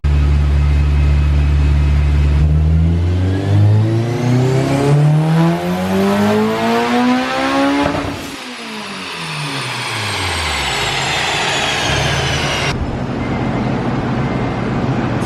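Honda Civic Si with a Mugen exhaust revs up through a long rising engine sweep, then drops back and climbs again, loud and close with no talk over it.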